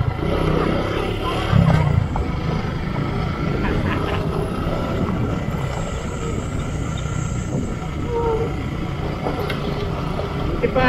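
An off-road motorbike rides a rough, bumpy rural road, its engine a steady moderate drone with rattles and jolts, and a voice speaks briefly.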